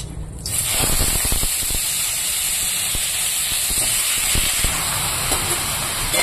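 Bottle gourd and small potato pieces dropped into hot tempering oil set off a loud, steady sizzle that holds from the first moment to the end, with a few soft clicks of pieces settling.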